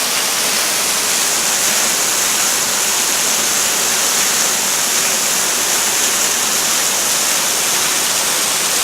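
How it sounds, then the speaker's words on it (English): Steady, dense roar of a waterfall on the Crispus Trail, heard from close behind the falling water, loud and unbroken throughout with no voices. "Gotta love the waterfall."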